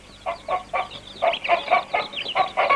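Several chickens cluck in short repeated bursts, close by and moderately loud, with a steady rhythm of overlapping hen calls and no talking.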